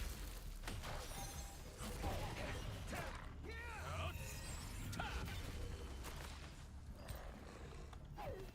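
A locked door is tried in Throne and Liberty, giving faint mechanical creaks and rattling clicks, with several short squeaky strains over a low, quiet background.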